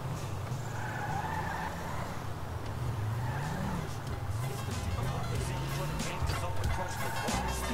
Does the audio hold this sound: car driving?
yes